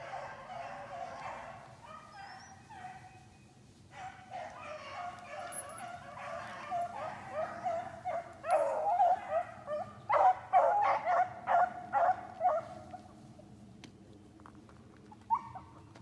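Young dogs on a rabbit chase outdoors give a series of excited yips, whimpers and barks, faint at first then growing into louder bursts of repeated barking toward the middle, trailing off near the end.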